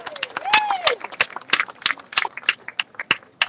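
An audience at a fishing tournament weigh-in claps in an uneven burst of applause close by, with sharp individual claps and a whistle rising over the crowd.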